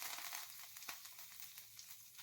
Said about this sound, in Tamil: ஃபர்ஸ்ட் கூட்டுக்கு தேவையான தாளிப்பு தான் ரெடி பண்ணிட்டு இருக்கேன்